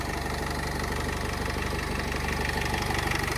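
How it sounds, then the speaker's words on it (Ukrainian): The 2.0-litre 115 hp diesel engine of a 2013 Renault Trafic passenger van idles steadily with an even, rapid clatter, recorded close up under the open bonnet. "Відмінна робота мотора"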